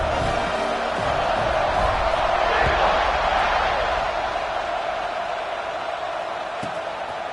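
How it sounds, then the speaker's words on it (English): A video game football stadium crowd keeps up a broad, steady buzz after a score, with an announcer talking over the roar. "this crowd is buzzing after that last score"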